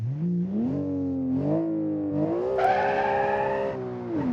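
A Black Widow car with a twin-turbo Boxer 6 engine in BeamNG.drive revs up through rising and falling pitches, loud and close. A sharp tire squeal joins midway and holds over the engine drone.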